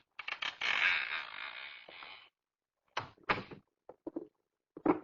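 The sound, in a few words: creaking door being pushed open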